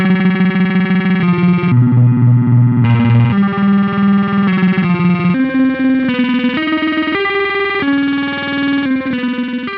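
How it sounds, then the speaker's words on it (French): Electric guitar played through a Zoom MS50G multi-effects pedal on its trigger hold delay setting, loud sustained distorted notes stepping between pitches with a smeared, held echo tail. "Trigger hold delay."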